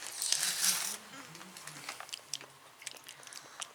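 A crunchy snack from a Munchpak box, such as a chocolate-covered pretzel, is bitten and chewed: a crinkle of packaging, then soft, quiet irregular crunches and mouth sounds, up close.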